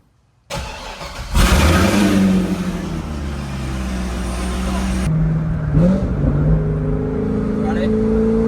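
A C6 Corvette ZR1 supercharged V8 cranks and fires up close by with a loud burst, then settles into a deep, rumbling idle with a brief blip of revs; people talk nearby.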